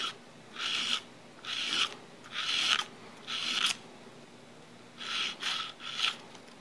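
Sandpaper rubs the sharp grip safety edges of a 1911 pistol in steady back-and-forth strokes, about seven rasping passes in quick bursts with brief pauses, close up and fairly quiet.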